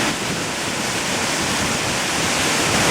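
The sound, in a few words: waterfall in Costa Rica below a suspension bridge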